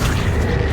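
Accio summoning spell cast in the Hogwarts Legacy video game, a brief, loud, dense magical burst with a deep booming low end, filling the whole moment with no pause.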